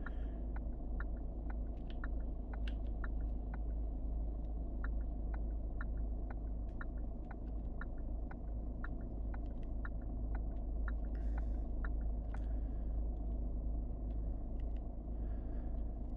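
Low steady engine rumble of a truck in the video game Truck Driver, a constant droning hum throughout with faint regular clicks ticking on top, quiet and even.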